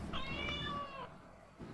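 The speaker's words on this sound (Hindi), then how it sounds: "काली बिल्ली रास्ता काट गई" A black cat gives a single clear, drawn-out meow close by, followed by quiet background.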